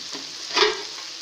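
Okra and meat (bhindi gosht) frying in a pan as a little yakhni stock is poured in, a steady close sizzle swelling into a brief louder hiss midway, with no talking.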